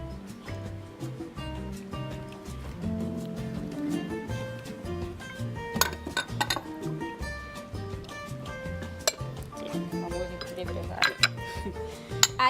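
A utensil clinks and scrapes against a bowl while liquid coconut oil and eggs are mixed for a gluten-free spiced pumpkin cake, with irregular taps and louder knocks toward the end and occasional talk in the background.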